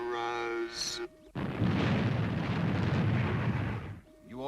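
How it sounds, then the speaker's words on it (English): Spacecraft retro rockets fire in a loud, steady roar that lasts about three seconds, following a brief voice and fading out as another voice begins. "Fire retros, Robert"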